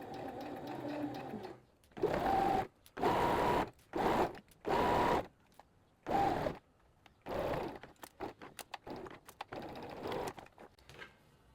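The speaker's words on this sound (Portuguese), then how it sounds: "vou costurando bem devagar para conseguir completar a minha curva" Sewing machine stitching slowly around a tight curve in fabric, running in short separate bursts of whirring with pauses between them, then fainter intermittent ticks as the stitching finishes.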